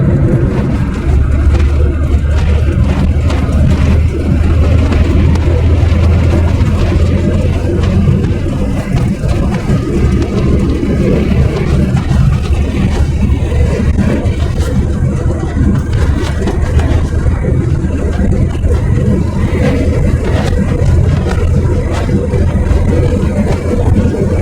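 A 1996 Fiat Punto with a 55 hp engine drives gently along a road, its steady low engine hum and road noise heard from inside the car, loud and continuous, with faint talk now and then.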